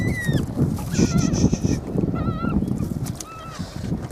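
Ducks honking and quacking repeatedly at close range, several calls overlapping amid scuffling and movement noise.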